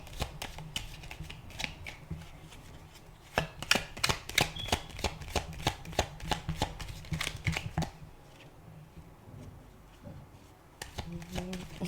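Tarot cards are shuffled in quick, crisp riffling bursts, a close series of sharp clacks and flutters, followed by a quieter pause and a few more card snaps, with someone speaking softly at times.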